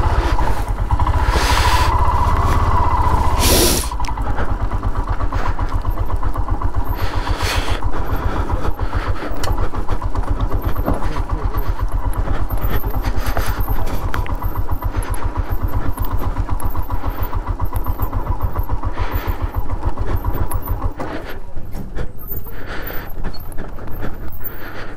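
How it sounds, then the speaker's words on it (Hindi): A vehicle engine starts and then runs continuously while driving off-road near Pangong Lake, a loud, steady rumble with bumps and rattles across the whole stretch; no speech. "सही ठीक ठाक ऑफ रोडिंग हो रही है."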